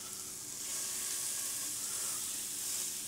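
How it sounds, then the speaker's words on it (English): Hanger steak searing in a hot pan, a loud, continuous hissing sizzle that swells slightly after the first half-second and then holds steady, close and unaccompanied by voices. "we want to hear that sizzle as soon as it hits the pan to start that Maillard reaction"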